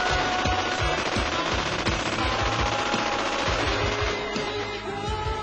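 Automatic gunfire in a Halo multiplayer match rattles in a fast, unbroken stream of shots, loud and steady across the whole stretch with no talk over it.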